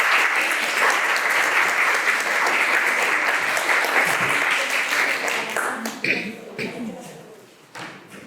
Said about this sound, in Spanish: muchas gracias por esos espontáneos aplausos